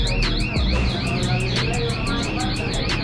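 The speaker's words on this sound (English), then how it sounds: "Oh, exit alarm." Electronic exit alarm on a South Bronx street at 149th and 3rd in New York, a repeating warbling siren-like tone sweeping up and down steadily over constant city street noise.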